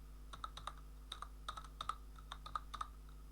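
Fingers tap quickly on a computer keyboard, a dozen or so light, quiet clicks in an uneven rhythm over a faint steady hum, with no talking.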